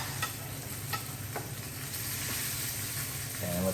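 Steaks searing in a hot pan give off a steady, close sizzle and hiss that holds evenly throughout, with faint scraping now and then.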